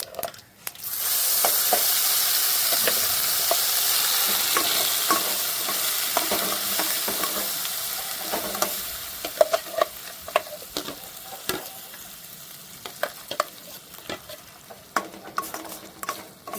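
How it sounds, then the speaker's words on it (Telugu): Steady sizzling of masala paste frying in a hot pan, loud at first, then easing into scattered crackles and soft stirring scrapes. "సిమ్లో ఉంచుకొని కొంచెం లైట్గా ఫ్రై చేసుకుందాం"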